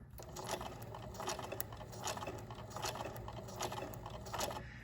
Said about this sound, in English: I'm going to then put my presser foot back down and I'm going to sew forward a little bit more.